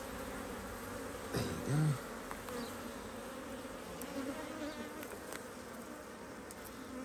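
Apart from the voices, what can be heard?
honey bees buzzing during beehive inspection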